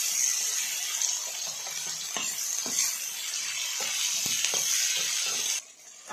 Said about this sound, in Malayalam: ഇനി നമുക്ക് ബാക്കി എണ്ണയിലേക്ക് ഒരു 4 സവാള അരിഞ്ഞുകൊണ്ട് ആയിട്ട് വെക്കാം